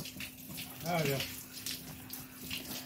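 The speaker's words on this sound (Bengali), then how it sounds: "এখন এইগুলো ধোয়াধুয়ি করছে" Water runs quietly and steadily from a tap as dishes are washed in a home kitchen, with a brief voice heard over it and a low hum beneath.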